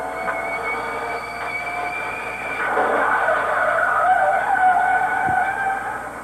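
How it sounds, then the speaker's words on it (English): Car sliding and scraping along a concrete block bridge rail retrofit mounted on a curb during a roadside safety crash test, a steady grinding scrape that grows louder midway and continues with no talking. "the car scraped along it and came to a safe stop."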